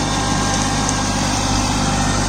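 A Kubota Neostar B2441 24 hp mini tractor engine runs steadily in medium second gear near 2000 RPM with the PTO turning, during puddling work with cage wheels; a loud, constant close drone with no talk.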